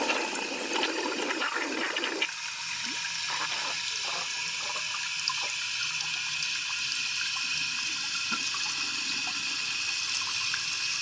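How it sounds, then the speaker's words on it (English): Water rushes and gurgles steadily as a 2001 American Standard Cadet toilet tank drains, close and loud and continuous throughout, with no talk. "I'm just going to drain the rest of the water from the tank and see what it does."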